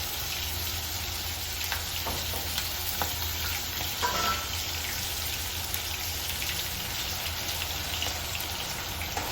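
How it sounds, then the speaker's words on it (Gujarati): Grated onion frying in hot oil, a steady close sizzle with intermittent stirring clinks and scrapes, no voices. "જો તેલ ગરમ થઈ ગયું ને એટલે સૌથી પહેલાં છે ને ડુંગળી છીણેલી આપણે નાખી દીધી છે"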